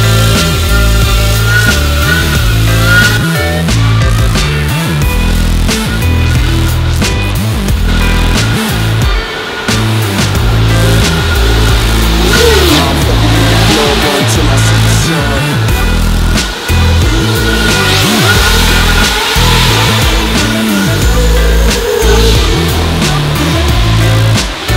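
A Racer X mini quad RC car makes speed runs in a car park, its electric motor whining loudly in rising and falling bursts over gritty tyre and surface noise, close by and continuous with no speech.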